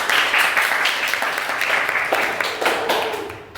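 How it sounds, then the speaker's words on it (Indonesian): A small studio audience claps for guest students from an eleventh-grade social studies class on a school podcast, a short burst of dense close applause that thins out toward the end. "Tepuk tangan dulu dong."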